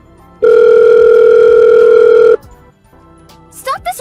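A telephone rings once with a loud, steady electronic tone of about two seconds. Brief quieter sounds follow, then a voice starts speaking.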